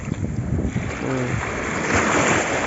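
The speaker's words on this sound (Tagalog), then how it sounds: "Grabe lakas talaga ng alon." Heavy surf churns and crashes continuously with strong wind buffeting the microphone, a steady roar of rough sea close by, off the Spratly Islands.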